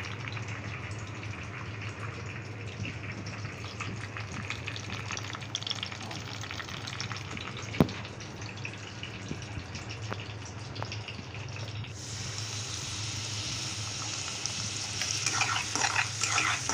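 Chopped onions sizzle steadily in a pan while frying for ghee paneer carrot fried rice, a constant close crackle with occasional stirring and a brief clatter, growing brighter near the end.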